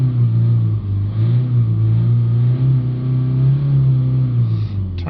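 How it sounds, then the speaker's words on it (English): A Toyota Yaris 1.4 D4D diesel engine with a heavily soot-blocked particulate filter revs up and down at close range, a loud steady idle drone swelling and easing in pitch, with no talking. "give it a rev up and down"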